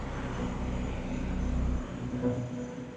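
Airbus A380 airliner engines idling while the aircraft parks at an airport gate: a steady, close, droning low rumble with a faint high whine, with no talk.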